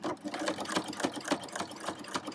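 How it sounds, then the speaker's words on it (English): Sewing machine stitching a quilt seam with an open-toe walking foot, a close, rapid rhythmic mechanical clatter of the needle running steadily for a couple of seconds. "I'm going to start stitching."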